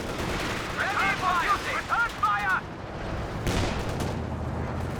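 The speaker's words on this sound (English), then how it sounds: "Suppression coming in there from the Kugelwagen." Machine gun suppression fire from a Kubelwagen in Company of Heroes 2, a mix of gunfire bursts and battle noise heard under a voice speaking over the action.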